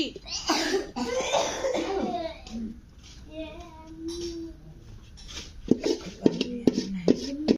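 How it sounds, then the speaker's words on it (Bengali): Repeated coughing bursts at home while chitoi pitha rice cakes are being made, close and fairly loud, with a voice and bits of laughter and chatter around them. "আল্লাহ কাশি।"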